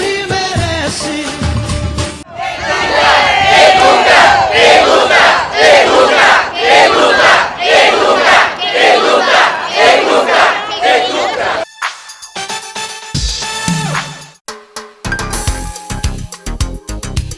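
A large crowd at a public gathering roars and cheers loudly for about ten seconds, with a dense, sustained wall of shouting voices that drops off abruptly. Shorter bursts of other sound follow.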